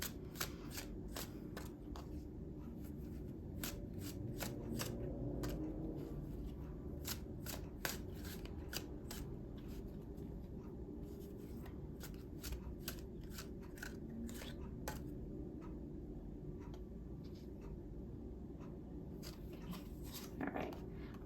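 Tarot cards are shuffled and laid down in a quiet room, giving soft repeated riffling snaps and light taps over a steady low hum, with no talking.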